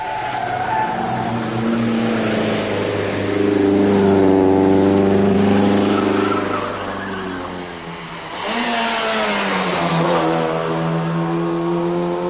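Vintage rally cars, including an old Saab V4 and a six-cylinder Wolseley, labour up a steep hill climb at speed, engines droning loudly with rising and falling revs, a brief dip and then a fresh surge of acceleration.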